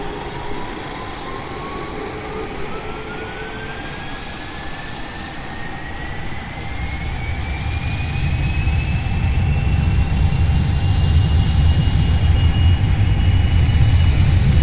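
Boeing 737 Classic jet engines spooling up to takeoff power in the X-Plane 11 flight simulator, a rising whine climbing steadily in pitch as a deep rumbling roar builds louder and heavier, sustained without voices.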